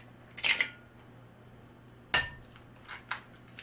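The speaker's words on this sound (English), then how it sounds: "And 3 eggs. I'll crack them in there first." Eggs being cracked into cake batter for a coffee cake: two or three sharp, short cracks and taps spaced apart, close and fairly clear over quiet background.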